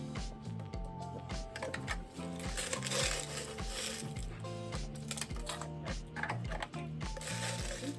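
A Snoopy Sno-Cone machine grinds crushed ice with a steady, dense mechanical crunching and ratcheting that runs unbroken and loud throughout, close up with no talking.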